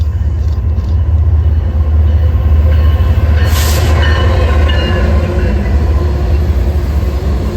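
A BNSF intermodal freight train pulled by four GE locomotives rolls past close by, a steady loud rumble of wheels and railcars with a brief higher squeal partway through, no talk.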